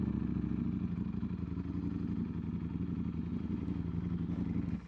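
A Ducati Streetfighter V4S motorcycle on a ride to work holds a steady, loud, close engine rumble with fine rapid pulsing and mechanical clatter, alongside constant wind roar, for the full length.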